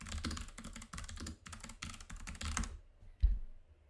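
Rapid bursts of clicking on a computer keyboard, close and clear, in several runs of typing that stop abruptly before a single soft thump.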